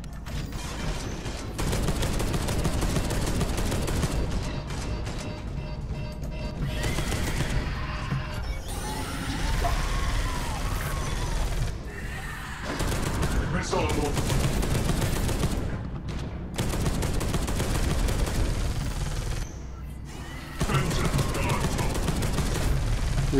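Enemy gunfire in the video game Deathwing: dense, sustained bursts of shooting that run almost continuously and loudly, mixed with mechanical clanks and crashing effects, with brief lulls between volleys.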